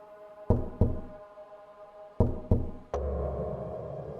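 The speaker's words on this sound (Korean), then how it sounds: "등 뒤에 창문을 두드리는 소리가 나면서" Knocking on a window glass, sound effect: two quick pairs of sharp knocks, evenly spaced and close, followed by a dull thud and a low lingering hum.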